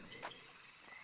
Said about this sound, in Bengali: ঝিঝির ডাক আর অন্যান্য পোকামাকড়ের আওয়াজে কান যেন